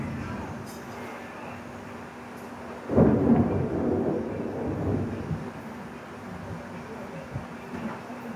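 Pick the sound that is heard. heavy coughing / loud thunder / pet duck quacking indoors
loud thunder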